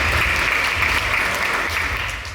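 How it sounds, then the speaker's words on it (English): A real estate brokerage crowd at a company event claps together in a loud, continuous burst, the dense patter holding steady before easing off at the end. "So give yourself a round of applause for that."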